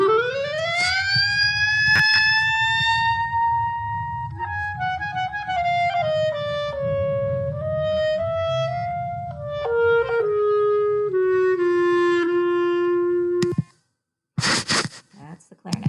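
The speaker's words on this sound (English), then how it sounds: "And here is a little bit of what the clarinet sounds like." Clarinet plays a short melodic phrase of sustained, gliding notes over a low background murmur, ending abruptly with a few brief noises.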